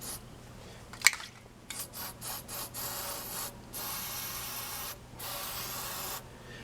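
Several bursts of aerosol spray hiss from a can, some short and a few longer sustained sprays, with a sharp click near the start.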